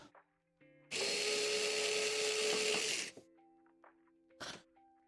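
Screws being backed out of a Skywalker coffee roaster, heard as a loud, steady whirring burst of about two seconds from a power tool, with quieter mechanical clicks and tones before and after.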